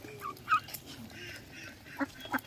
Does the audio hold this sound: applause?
no